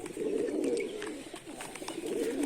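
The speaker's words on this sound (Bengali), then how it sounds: "পায়রাগুলো খুব ভয় পাচ্ছে" Pigeons coo steadily and close by, a continuous low murmuring chorus from a flock of Rajshahi Giribaz pigeons with no voices over it.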